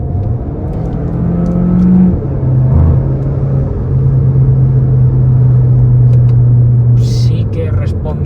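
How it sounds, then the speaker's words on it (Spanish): Chip-tuned 300 hp turbocharged car in Sport mode accelerating under kickdown, a loud steady engine rumble and rising drone heard from inside the cabin, with a brief voice near the end. "Vamos a hacer un kickdown."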